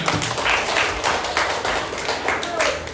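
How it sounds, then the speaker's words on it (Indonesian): Classroom applause for a group of students, a continuous patter of many hands clapping at moderate loudness, with a few sharper claps standing out and voices faintly underneath. "Beri tepuk tangan untuk kelompok ini"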